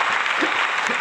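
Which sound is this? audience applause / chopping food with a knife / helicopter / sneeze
audience applause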